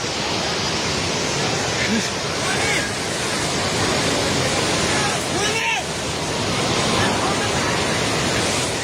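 Floodwater rushing through the flooded Trishuli bazaar area in Nepal, a loud, steady broadband roar that fills the whole stretch without pause, like a torrent or waterfall close by.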